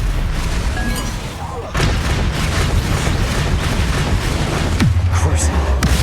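Confringo blasting spells explode in Hogwarts Legacy, heavy booming impacts with sharp onsets, one hitting hard near the middle and another at the end, over continuous loud combat rumble.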